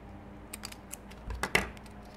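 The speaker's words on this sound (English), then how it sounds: "Got my scissors." A few short, crisp snips and crinkles of scissors cutting through a sealed plastic container, close by, with quiet pauses between the cuts.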